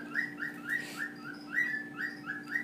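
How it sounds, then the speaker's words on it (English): Excited, rapid chirping from a pet bird indoors: a quick series of bright whistled tweets repeats at a steady pace over a low constant hum, with no voices. "my bird is going nuts for some reason"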